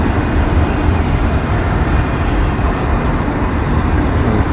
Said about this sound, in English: These autorack trains can be quite long.